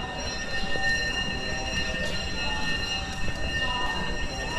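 A train at Attari railway station near the Wagah border gives a steady, fairly loud rumble of rolling wagons. High metallic wheel squeal rings over it, with no voices.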